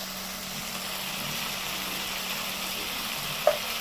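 Onion, tomato, Kashmiri chilli powder, coriander powder and cumin powder fry together in oil. A soft, even sizzle runs close and steady, with one small click near the end and no voices.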